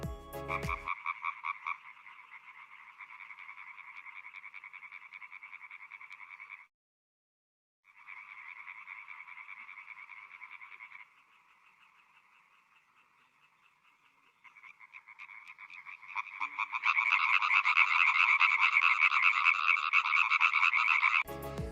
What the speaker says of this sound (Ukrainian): Послухайте, як розмовляють квакші.